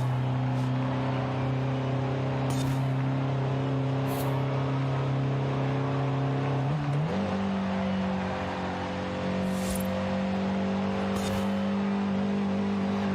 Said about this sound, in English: Bounce it off the rev limiter, as is tradition